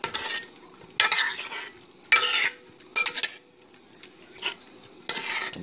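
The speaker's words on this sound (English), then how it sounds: "Okay, now what I do, I mix all these with that nice sauce." A spoon scrapes and clatters through ingredients and sauce in a cast iron pot for a chicken dish, sounding as four or five separate bursts of stirring with quiet gaps between them and a faint sizzle underneath.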